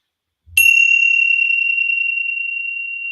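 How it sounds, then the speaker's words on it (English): A small hand bell dinged once, sharp and clear, with a long bright ringing tone that decays slowly over a few seconds, close and alone. "I'm going to ding my bell."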